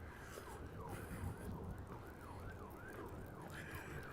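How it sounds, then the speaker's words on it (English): Emergency vehicle sirens wail in the distance during a chilly walk around a lake in Regina, a faint rising and falling tone repeating steadily over steady wind and outdoor background noise. "I hear sirens. I hear sirens,"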